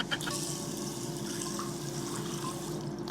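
Tap water runs steadily into a new pan being rinsed in a kitchen sink, a constant close splashing hiss with no talk over it.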